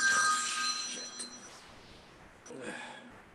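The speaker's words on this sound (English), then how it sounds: "is that my phone?" A phone rings with bright electronic tones, loudest at the start and fading, followed by a second short burst of ringing; faint background murmur underneath.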